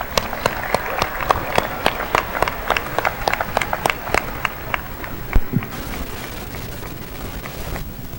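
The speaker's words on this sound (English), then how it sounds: "let's give them a round of applause for a great performance." An audience at a high school graduation claps after a choir performance. Scattered, fairly sparse claps come from a crowd in a large hall for several seconds and then fade.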